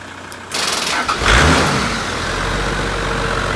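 A Toyota Land Cruiser FJ80 that sat for years in an Arctic barn cranks briefly, then catches with a low surge and settles into a loud, steady running engine, close by with no talk.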